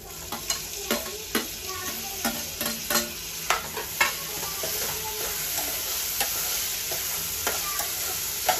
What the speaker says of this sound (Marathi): आता मी त्याच्यामध्ये टोमॅटो घालून घेते.